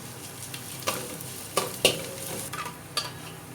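Chopped garlic and slit green chillies sizzle in oil for a Kerala-style crab curry, with a low constant frying hiss and several sharp scrapes and clinks from stirring against the pan.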